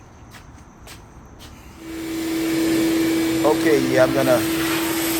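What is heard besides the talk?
Ridgid vacuum cleaner running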